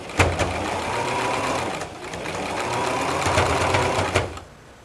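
Sewing machine stitching fabric for fractured quilt blocks, a rapid steady mechanical chatter running close up for about four seconds, with a couple of brief knocks before it stops.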